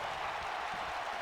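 Arena crowd cheering and applauding in a WWE 2K wrestling video game match, a steady dense roar of noise with no break, moderately loud.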